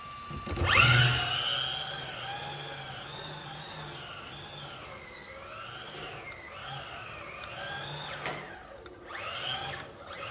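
The brushless electric motor of an RC car with a Porsche 911 body whines loudly up close, rising sharply at first, then holding and wavering in pitch as the throttle is varied, with a few dips near the end.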